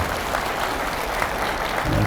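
Steady applause from a church congregation at a New Year worship service fills the whole stretch, dense and even throughout with no voices rising above it.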